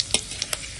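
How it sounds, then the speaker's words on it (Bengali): Dried red chillies, five-spice seeds and bay leaf fry in hot mustard oil, giving a faint sizzle broken by a few quick, sharp spatter pops over less than a second. "এখন দিয়ে দেবো শুকনো লঙ্কা আর 5 ফোড়ন আর দিলাম তেজপাতা। ফোড়নটা একটু ভেজে নেব।"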